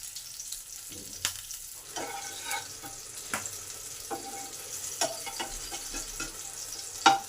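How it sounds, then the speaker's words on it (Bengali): Cumin, fennel, green chilli and bay leaf fry in hot oil with a soft, steady sizzle, punctuated by scattered sharp pops and light stirring clicks close by. "জিরে মৌরি কাঁচা লঙ্কা তেজপাতা ভাজা হয়ে গেছে একটা সুন্দর গন্ধ বেরিয়েছে"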